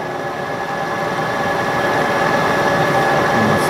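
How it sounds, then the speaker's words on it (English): A metal lathe runs steadily while breaking and radiusing the corner of a part, giving a continuous close machine hum with a faint tonal whine and no talk. "I should go ahead and put the radius on that while I'm in the lathe"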